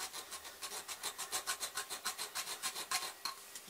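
A Bridgeport mill slotting head cuts a slot in metal, a fast, regular series of scraping strokes, about six per second, close and moderately loud.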